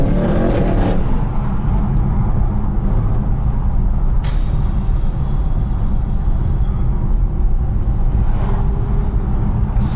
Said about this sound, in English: All these diesel engines, come on.